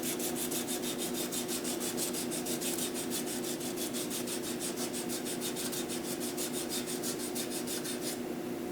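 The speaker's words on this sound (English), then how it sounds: "I'll actually go back with the grain and manually turn the pen just so we can take out those scratches the opposite way" A turned wooden pen is hand-sanded along the grain, giving a steady, close rasping rub that repeats in quick even strokes and carries on alone without pause.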